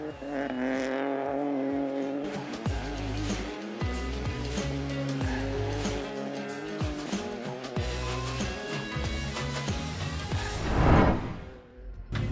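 A Ford Fiesta Rally 3 races along a stage at the Serras de Fafe e Felgueiras rally, its engine revving hard and shifting pitch steadily under a dense layer of other sound.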